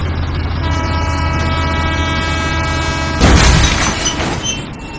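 An orange locomotive pulling railway wagons rumbles past loudly and steadily, then a train horn blares for about a second near the end over the ongoing rolling noise.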